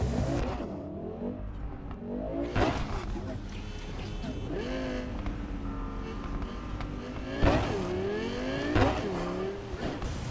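The fastest car in Cyberpunk 2077 revs and accelerates with a steady engine drone, rising engine pitch and occasional tire squeals, under continuous talking.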